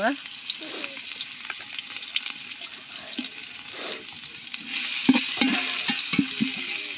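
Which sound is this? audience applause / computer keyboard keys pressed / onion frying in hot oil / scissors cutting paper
onion frying in hot oil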